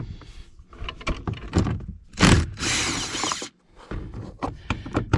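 A ratchet with an extension removes door bolts on a GM truck, giving one loud buzzing burst of about a second amid scattered clicks and knocks of handling, close by.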